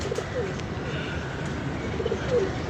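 Pigeon cooing during a pigeon-keeping session, a soft low coo repeating a few times over steady outdoor background noise, faint and somewhat distant.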